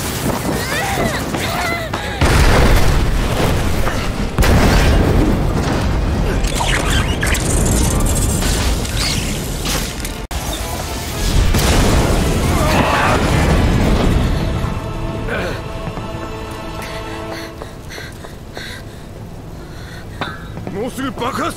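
Deep booming explosions from a Final Fantasy game scene, two heavy loud bursts with rumbling tails, mixed with music and character voices.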